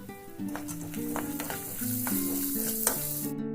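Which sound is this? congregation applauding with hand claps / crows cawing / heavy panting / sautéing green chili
sautéing green chili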